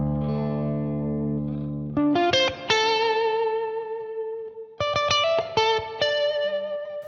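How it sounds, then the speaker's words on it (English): Electric guitar run through a HeadRush multi-effects pedal's C-Verb convolution reverb, single chords and picked notes ringing out with long, lush reverberant decay, played alone. "the C-Verb uses impulse responses, also known as IRs, to apply natural reverberation"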